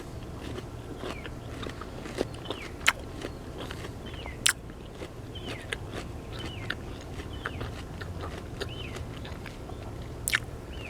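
Someone biting into and chewing a home-grown white peach, with a few sharp bites followed by soft, wet, steady chewing up close and no talking.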